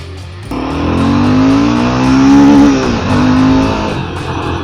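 A Royal Enfield Himalayan 450 motorcycle engine revs up steadily through the gears, its tone climbing and dipping at a shift, loud and close with no talking.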